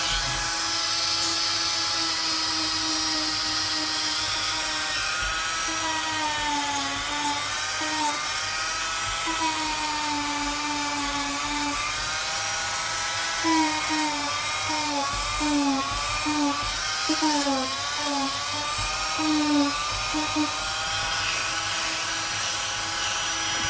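A Dremel rotary tool grinds with a steady high-pitched whine that dips and rises in pitch as it bites into the work, heard close and continuous throughout.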